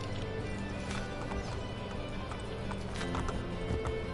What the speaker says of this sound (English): Alright, chase down Mario's horse.